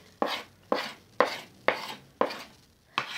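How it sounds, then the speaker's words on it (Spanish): Hands knead and slap cheese cachanga dough against a surface in a steady rhythm, six dull thumps about half a second apart, close and clear with no talking. "Vamos a seguir amasando hasta que la bolita no se pegue en tu mano"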